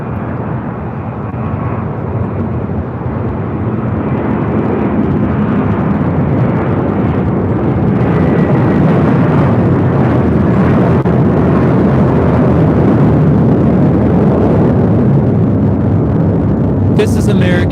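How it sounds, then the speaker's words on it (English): An American Airlines A321 takes off from LAX runway 25 right, its engines giving a loud, steady roar that builds and stays sustained, with faint radio voices now and then. "This is American 2201 taking off to JFK on an A321."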